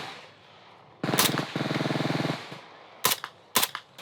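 Shots from a semi-automatic gun fired by a young girl in Oklahoma, heard as a rapid, rattling burst followed by two sharp, separate reports, loud and close.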